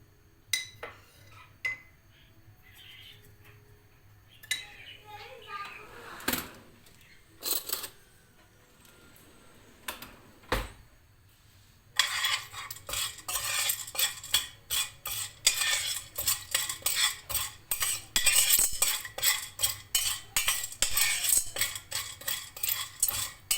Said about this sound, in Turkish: Birazcık yağ koydum. Olanca mısırı koydum içine.